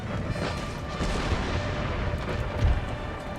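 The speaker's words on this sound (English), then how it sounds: "their general is raked by cannon and musket fire" Dense, continuous rumbling booms of cannon and musket fire in the video game Empire: Total War roll together, loud and steady, with no pauses and no voices.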